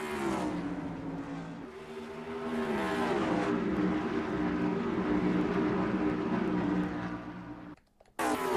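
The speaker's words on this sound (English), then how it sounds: "We are green flag racing at Watkins Glen." Race cars in NASCAR Racing 2003 roar off at the green flag at Watkins Glen, a dense pack of engines droning and revving together, loud and sustained, then briefly cutting out near the end before resuming.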